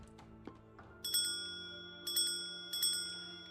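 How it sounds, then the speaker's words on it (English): Bell rung in the puzzle game Gordian Rooms 2, three bright metallic strikes spaced about a second apart, each ringing out and decaying, close and clear after a few soft clicks. "I can now ring the bell, but I don't know what exactly that does for me"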